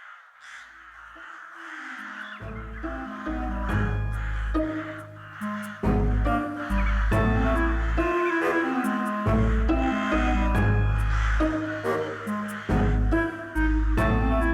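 Crows cawing loudly and repeatedly at close range, harsh overlapping calls in quick irregular bursts that continue for most of fifteen seconds.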